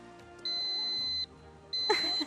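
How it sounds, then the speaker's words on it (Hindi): Quiz competition buzzer, pressed twice: a loud, steady electronic tone held for under a second, a short pause, then a second identical tone, with a brief murmur of voices near the end. "आपने बजर दबाया है।"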